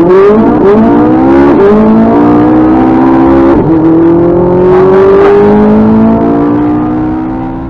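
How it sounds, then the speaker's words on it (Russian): An Audi RS3 and a Ferrari 458 launching from a standing start in a drag race, loud engines revving hard and climbing in pitch through quick gear shifts, then fading slightly at the end, with no talk. "Audi RS E3 против Ferrari 458, Бобик против спорткара. Заезд с места."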